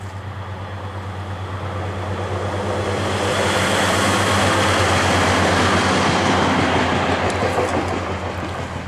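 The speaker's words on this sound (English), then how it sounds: "a train coming up behind me" A passing train swells up behind someone walking outdoors, its rumble and rushing roar building to a loud peak midway and then easing off, with faint clicks on top.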